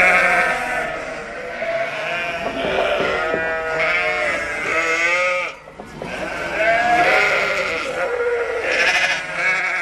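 A flock of sheep and ewes, guarded by livestock dogs on a farm, bleats loudly and nearby, with overlapping calls from several animals across the whole stretch.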